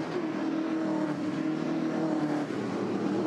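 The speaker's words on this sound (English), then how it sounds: "lose another one to David Cetus, who slips down the inside on this final lap" Race cars on the final lap of the 2013 Clipsal 500 in Adelaide, a continuous engine drone with shifting pitch, steady and moderately loud.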